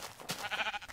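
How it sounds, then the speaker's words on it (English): A sheep in the Minecraft video game gives one short, wavering bleat, clear and close with no talk over it. "Look at all these sheep, my god!"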